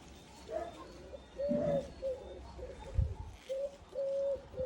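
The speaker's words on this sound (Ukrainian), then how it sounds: "І голубка воркує" A dove coos repeatedly in soft, low phrases, with faint background noise and a brief thump midway.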